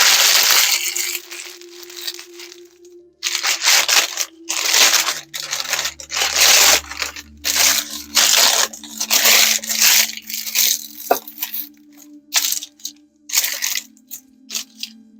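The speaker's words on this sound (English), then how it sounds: "a trick about parchment paper that you crumple it up to get it to lay flat" Parchment paper being crumpled by hand in a kitchen while baking lemon cookies, loud close crinkling and crunching in repeated bursts with short pauses, over a faint steady hum.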